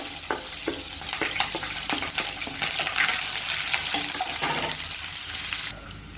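Chopped onions hit hot oil already holding fennel, cinnamon sticks and curry leaves, giving a steady, loud sizzle and frying hiss with occasional stirring scrapes throughout, no talking.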